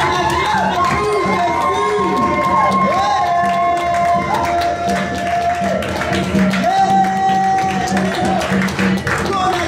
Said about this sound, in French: Qu'on acclame pour Jésus.